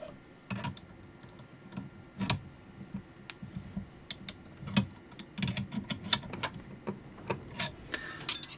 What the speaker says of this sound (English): Tighten it up with the spanners.